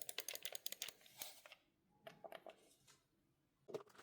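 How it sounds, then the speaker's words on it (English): Micro switch face buttons on a Hori Fighting Commander Octa Pro controller clicking close up, first a fast burst of short, sharp mechanical clicks, then a few scattered presses after a pause. "You'll hear that there's a mechanical click."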